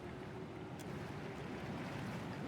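Rushing, cascading water floods a stone fighting-pit arena in Pillars of Eternity 2, a steady broad wash with low rumble, continuous and fairly quiet, no voices.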